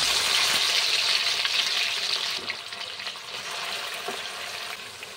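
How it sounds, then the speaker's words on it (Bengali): Marinated mutton frying in a wok of hot oil and ghee, giving a loud, continuous sizzle with crackling and no talk. "এবার আমি এই ম্যারিনেট করা মাংসটাকে আমি এবার কড়াই যে তেল ঘি মিশিয়ে গরম করছি সেইটাতে আমি দিয়ে দিচ্ছি"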